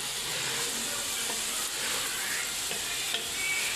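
Chicken shami kabab mixture with salt and chili being stirred in a hot pot, giving a steady bright sizzle with soft scraping and stirring under it, close and continuous.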